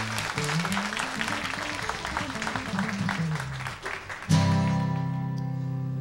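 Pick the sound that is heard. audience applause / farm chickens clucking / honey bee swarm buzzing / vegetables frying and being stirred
audience applause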